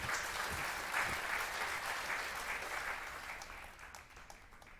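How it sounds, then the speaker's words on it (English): A crowd in the video game Puppeteer erupts in cheering and applause, a dense, loud roar of clapping that slowly fades toward the end. "a tidal wave of cheering washed over Kuturo, and so deafening was the roar"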